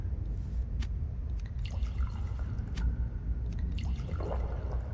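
Canteens are filled with water in a survival video game, with soft drips and light liquid trickles scattered over a low steady background rumble, fairly quiet and with no talking.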